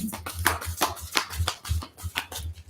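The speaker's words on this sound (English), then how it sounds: "This deck is very thick and very hard to shuffle." Thick deck of postcard-sized cards being shuffled by hand at close range, giving a string of quick, uneven papery riffles and flicks with soft thumps.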